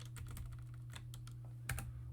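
A ping command typed on a computer keyboard in a terminal: quiet, quick, irregular key clicks with a firmer tap near the end, over a faint steady electrical hum.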